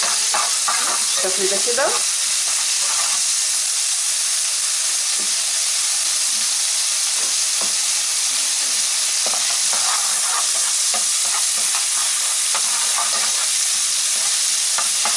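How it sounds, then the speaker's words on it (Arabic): A spoonful of garlic drops into hot oil in a pan for Alexandrian-style liver, setting off a loud, continuous hissing sizzle with occasional stirring clinks, and a voice briefly speaks over it near the start. "هنا الزيت سخن معانا بالشكل ده، بنزل بمعلقه من الثوم"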